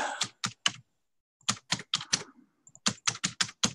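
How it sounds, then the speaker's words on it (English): Typing on a computer keyboard, with three quick bursts of keystrokes, a pause, then two rapid runs of clicky taps, close and clear. "So I'm going to go ahead and type in there."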